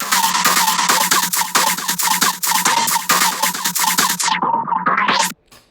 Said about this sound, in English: It makes like quick volume automatizations that make the sound like a stutter effect